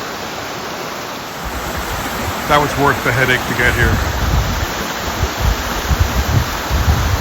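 Wailing Widow Falls, a waterfall on Scotland's north coast, pours with a steady broadband rushing roar that continues throughout, while a person speaks briefly over it.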